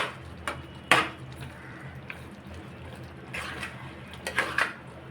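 A spoon scrapes and clinks against a cooking pot while sweet mango side dish is stirred, a few sharp metallic knocks over a soft simmer, close and with no talking.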